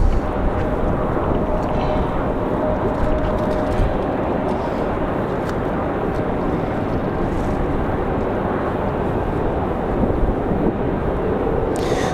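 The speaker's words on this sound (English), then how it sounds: "There goes our C-130." A C-130 military transport aircraft passes in windy conditions near Raleigh-Durham International Airport, a steady broad engine roar blended with heavy wind rumble, loud and sustained throughout.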